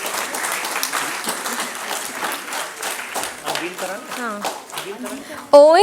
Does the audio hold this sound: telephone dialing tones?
no